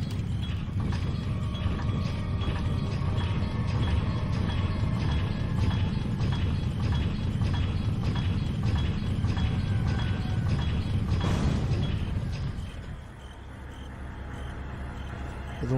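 A heavy lever mechanism in the video game Resident Evil 4 HD grinds and ratchets with rapid clicking for about twelve seconds, then winds down and stops, leaving quieter ambience.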